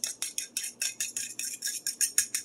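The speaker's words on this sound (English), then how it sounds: "And you're gonna whisk it." Whisk beating ingredients in a bowl for crockpot stuffed bell peppers, about fifteen quick even metallic clicking strokes in steady rhythm, close and clear with no talking.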